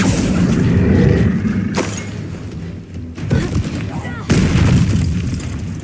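Confringo blasting spell going off in Hogwarts Legacy, a loud booming burst followed by further heavy impacts and crackling debris, with a character's voice shouting spell names around the blasts.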